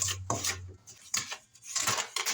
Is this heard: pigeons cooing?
no